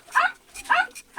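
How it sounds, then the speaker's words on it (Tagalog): Dogs being fed make short yelping, whimpering noises, three quick bursts in a row, close and fairly loud. "Ingay ng mga aso naman."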